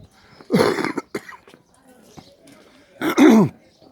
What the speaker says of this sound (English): Excuse the throat clearing